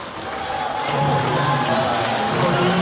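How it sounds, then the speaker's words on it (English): Steady crowd applause and cheering fill a high school basketball gym late in a Luers versus Carroll boys game, a broad continuous roar that swells slightly and holds at a loud level throughout. "And one more nice round of applause for a couple of seniors coming out for the Knights"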